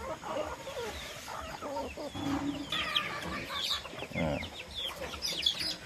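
Farm chickens cluck and squawk nervously close by, overlapping calls from several birds with an occasional rooster note, over a noisy outdoor background.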